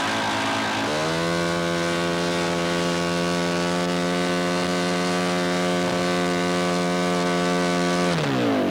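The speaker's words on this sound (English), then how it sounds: "For Bruno to start the engine requires a starter, in fact, developed from a Luton lorry starter system." A giant scale model triplane engine, started with a system derived from a Luton lorry starter, catches after a second and then runs loud and steady with a strong even drone before cutting off near the end.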